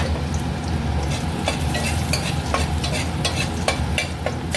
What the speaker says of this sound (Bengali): আমি এটাকে একটু ভেজে নেবো